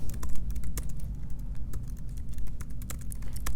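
Text is typed on a computer keyboard, a quick, uneven run of close, crisp key clicks continuing throughout with no talk.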